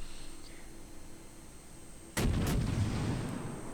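Naval gunfire in World of Warships, with a Tenryu cruiser firing on a battleship: a sudden loud, broad boom erupts after a quiet stretch, followed by a second sharp report and a rumbling tail.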